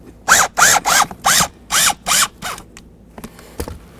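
A small bolt on the front driver side seat switch panel of a 2007-2017 Ford Expedition being driven in with a power tool, six short loud ratcheting whirs in quick succession, then a few faint clicks.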